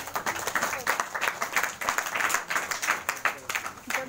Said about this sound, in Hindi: ये ताली बजाओगी तुम लोग